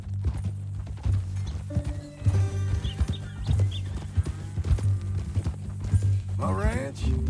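Horse hooves clip-clop steadily beneath men's conversation in the video game Red Dead Redemption 2, with a short whinny near the end and a low, continuous rumble of ambience underneath.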